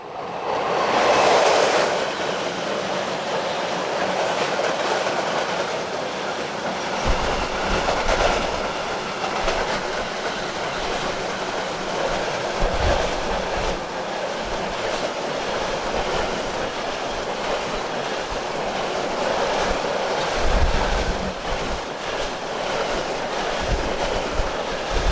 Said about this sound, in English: One 140-047 heads west with train 75905 from Fallersleben to Bremen.